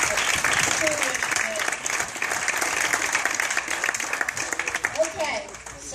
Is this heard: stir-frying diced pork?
no